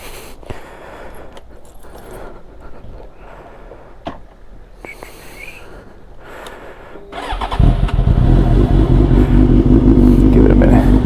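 Suzuki GSX-R 750 K5 motorcycle: quiet handling sounds and brief clicks, then at about seven seconds the engine cranks and catches into a loud, steady, close idle.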